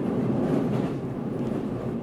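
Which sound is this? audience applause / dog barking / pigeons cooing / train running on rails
train running on rails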